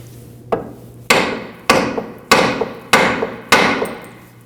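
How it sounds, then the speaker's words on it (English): Six sharp metallic hammer blows, evenly spaced and close, ring out against a steering knuckle of a 1993-2001 Subaru Impreza to free the tie rod, each strike followed by a brief decaying ring. "Using a hammer, we'll strike on the end of the knuckle here to release the tie rod."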